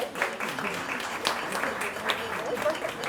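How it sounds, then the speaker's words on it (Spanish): An audience applauds to welcome a Zapotec poet at a literary reading event, producing a steady wash of clapping for about three seconds, with some voices mixed in. "Un aplauso para aquí la poeta zapoteca."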